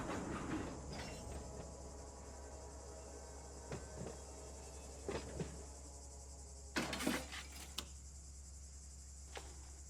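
A freight train rolls in the Run 8 Train Simulator game, with a low steady rumble, rail clicks and clanks, and a few sharp metallic bursts, fairly faint and with no talk.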